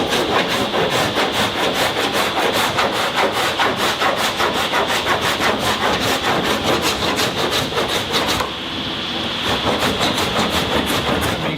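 A sanding block rasps back and forth over hardened body filler on a car panel in fast, loud, even strokes, pausing briefly near the end before resuming.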